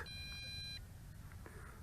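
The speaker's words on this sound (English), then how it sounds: "it did send out a couple of beeps, and that will indicate it is ready to calibrate" A JJRC X8 GPS quadcopter gives a faint, high electronic beep at power-up, followed by a couple of shorter, fainter tones, heard quietly with no talking.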